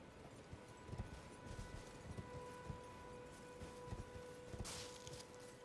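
A horse's hooves clip-clop steadily under a low game soundscape in Elden Ring, a mounted knight's footfalls faint and distant amid rustling ambience.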